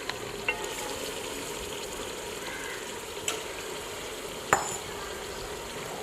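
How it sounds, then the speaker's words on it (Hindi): Homegrown desi chicken sautéing in oil and spices in a pot, a steady close sizzle and crackle throughout, with a few sharp spatters and stirring scrapes. "2-3 मिनट इसे मसाले में भून लेना है।"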